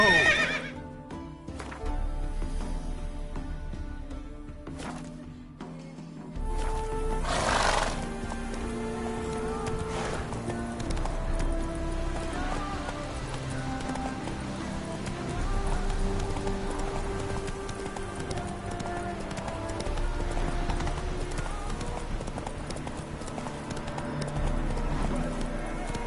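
Roach the horse from The Witcher 3 gallops with rapid clip-clopping hooves and whinnies, under game music and a voice urging it on.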